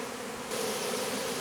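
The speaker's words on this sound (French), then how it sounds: "il y a beaucoup d'abeilles qui volent" A swarm of honeybees flies around a hive outdoors, a steady layered buzzing drone that thickens and grows louder partway through, with no voices.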